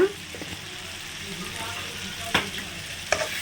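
Manathakkali kuzhambu sizzling steadily in a pan on high heat while a spoon stirs it, with a few sharp scrapes and clinks against the pan over the constant frying hiss.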